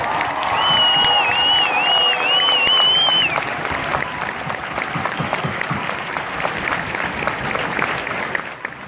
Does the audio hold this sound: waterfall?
no